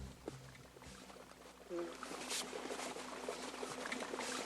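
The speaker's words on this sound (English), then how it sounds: "Trickling water" Faint trickling water runs beneath ice at high elevation in the Alaskan wilderness, a soft continuous bubbling and dribbling heard close but quiet against low background hiss.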